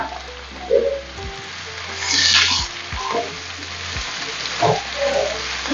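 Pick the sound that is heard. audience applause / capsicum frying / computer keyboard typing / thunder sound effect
capsicum frying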